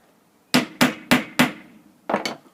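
A thin tack nail is hammered through a wooden dowel in four sharp, evenly spaced strikes, then a pause and two quicker taps, close and crisp in a quiet room.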